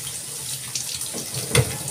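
Steady stream of tap water running while cut bhola fish is washed in a kitchen sink, a close, continuous splashing hiss with a few brief clinks and splashes of handling.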